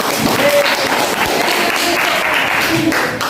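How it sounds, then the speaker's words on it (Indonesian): A classroom of students applauds a presenting group, giving continuous, even clapping from many hands that fills the room loudly throughout, with a little crowd murmur underneath. "tepuk tangan untuk kelompok 6"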